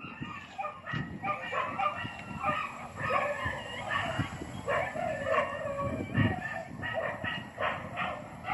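Many dogs bark and yelp together at a distance at a dog impound, an overlapping, restless chorus that keeps going throughout.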